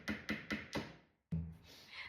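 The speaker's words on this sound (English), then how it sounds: "secured the backing in place with some finishing nails and my hammer" Four sharp, evenly spaced hammer taps driving finishing nails into wood, then a pause and one louder blow with a short ringing tail.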